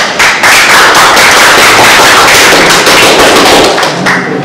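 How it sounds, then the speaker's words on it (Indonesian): A room full of people clapping again for the fourth group, dense and loud applause filling the whole stretch with no speech over it. "kita beri tepuk tangan sekali lagi untuk kelompok keempat ya"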